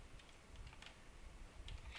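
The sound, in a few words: computer keyboard typing while playing Sky Wars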